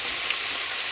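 French fries frying in a pan of fully heated oil for poutine, giving a steady, dense sizzling hiss that stays even and close throughout the short stretch, with no talking.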